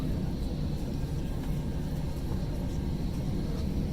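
Cabin of a Jetstar Airbus A320 taxiing out, a steady low engine rumble and broadband hiss that stays even throughout, with no talk.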